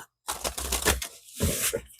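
Oracle cards shuffled by hand in a brief burst of crisp riffling and slapping, close and fairly loud, with a short pause before a second flurry.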